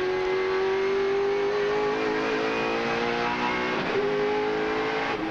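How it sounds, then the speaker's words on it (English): A Gibson Motorsport Holden Commodore touring car races at Eastern Creek in 1997, its engine holding a loud, steady high-revving drone with a brief pitch shift near the end, close and continuous with no talk. "Listening to Mark Scaife's car, hard at work."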